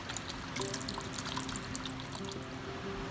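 Stock being poured into a pot of vegetable soup, a close steady liquid pour with a thin gurgling tone running for a few seconds, no talk.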